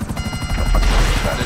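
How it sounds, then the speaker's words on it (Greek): A helicopter in GTA Online, its rotor thumping in a fast, regular beat with a loud low engine roar close by, mixed with faint game noise. "Κυνηγά το ελικόπτερο πίσω σας!"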